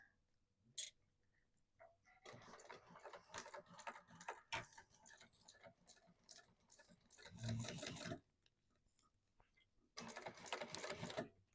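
A sewing machine top-stitches the sides of a fabric bag in several quick bursts of rapid mechanical whirring, separated by short pauses, close and fairly quiet.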